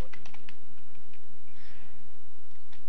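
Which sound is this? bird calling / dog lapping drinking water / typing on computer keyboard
typing on computer keyboard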